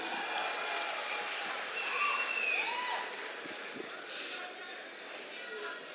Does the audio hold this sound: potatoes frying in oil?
no